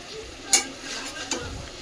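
Shredded cabbage filling for gobhi paratha stirred in a pan, faint sizzling under two sharp clinks of a utensil against the pan, quiet and close.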